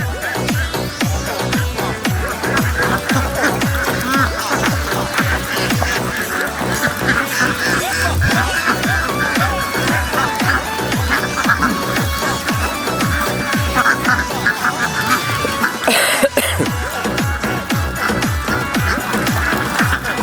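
A large flock of ducks quacks nonstop, dense overlapping calls forming a loud, continuous chorus nearby.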